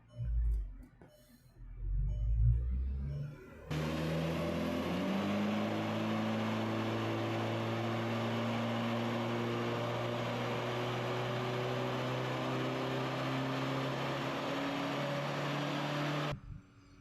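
A VW Polo engine pulling hard in fourth gear, a steady loud drone with rising harmonics sustained for about twelve seconds before cutting off abruptly, preceded by brief bumps and handling noise.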